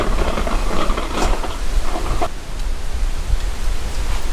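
Wind blowing outdoors beside a motorhome, a loud, steady rumbling gust noise buffeting the microphone throughout with slight surges.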